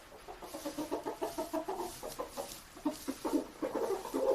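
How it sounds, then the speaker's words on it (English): Chickens cluck close by in a rhythmic run of soft, repeated calls on a farm, with a pause midway before the clucking resumes, fairly quiet and with no talk. "Chicken noises are some of the best noises, honestly."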